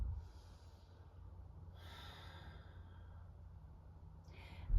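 Soft, slow breathing during a yoga pose, with a couple of gentle airy exhales that fade in and out close by over a low room hum and no talk.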